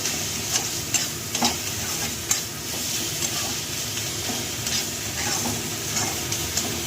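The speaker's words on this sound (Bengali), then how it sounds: "10 মিনিট আমি এইভাবে নাড়াচাড়া করবো, মাঝে মাঝে নাড়া দেবো, একভাবে দেবো না।" Food frying in a pan over medium heat, stirred now and then, with a steady sizzle and scattered scraping clicks of the spoon throughout; no talking.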